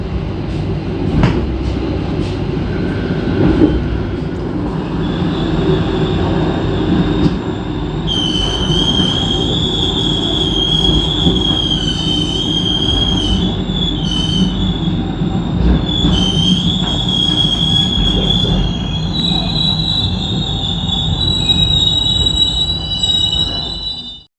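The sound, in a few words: Pangrango train arriving at Cisaat station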